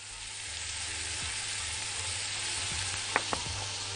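Onions sauté in a pan with salt and pepper as a quiet, steady sizzle, a few light scrapes and taps from stirring near the end, heard up close with no talking.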